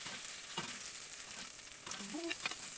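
Garlic and onion sauté in a pan with a quiet, steady sizzle and frying hiss, broken by a few soft stirring clinks and scrapes.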